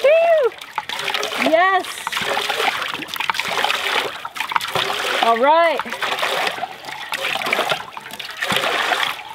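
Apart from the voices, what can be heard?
water splashing out of a pumped pipe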